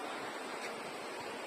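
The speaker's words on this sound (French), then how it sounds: "Ces petites cascades se trouvent dans la forêt." Small forest waterfalls give a soft, steady broadband rush of falling water, fairly faint and even throughout, with no one speaking.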